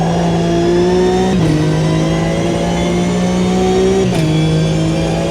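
A race car in the GRID racing game roars loud and close at high revs, its pitch dipping briefly at two gear shifts before holding steady again.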